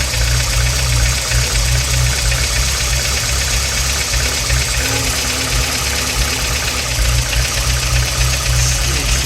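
Peugeot Boxer Auto-Sleeper camper engine idling with a rough, uneven running note, a steady close low rumble with slight knocking irregularity throughout, no talk.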